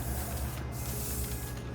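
Aerosol spray paint hissing onto an epoxy countertop in one continuous close burst, loud and steady with slight pulsing, no talking.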